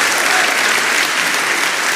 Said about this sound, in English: Would you give them a round of applause and appreciate them?